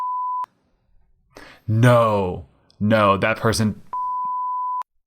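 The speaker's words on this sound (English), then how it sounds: "I'll bleep the name." Two steady, loud beep tones, one at the start and one at the end, bracketing a short bit of conversational speech.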